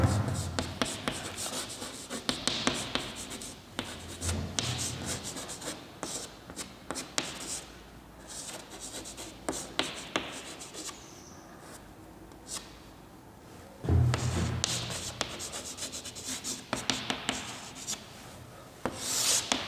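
Steady pen or marker strokes rub and scratch across paper or a board as an algorithm is written out by hand, continuous and close with brief pauses and occasional louder scrapes.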